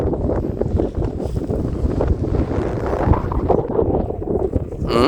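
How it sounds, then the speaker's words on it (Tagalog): Steady, loud wind buffeting the microphone outdoors while fishing for mullet, a constant low rumble with gusty roar and no clear voices. "Mahangin lang talaga dito mga kabosing."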